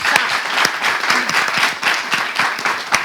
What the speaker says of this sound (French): applaudissez-moi ça